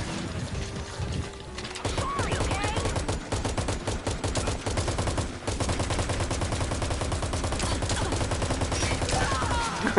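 Rapid automatic gunfire from the video game Metal Gear Online rattles in sustained bursts, dense mechanical clatter filling the whole stretch with only brief gaps.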